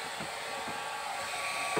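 A hair dryer blows a steady, moderate whooshing hum close by while drying a pet's fur, with no other sounds over it.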